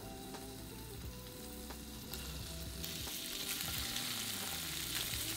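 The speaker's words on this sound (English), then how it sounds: "Add the pork belly to the frying pan." Pork belly sizzles and fries in hot oil in a frying pan, a steady crackling hiss that grows slightly busier and louder, with a little stirring and no voices.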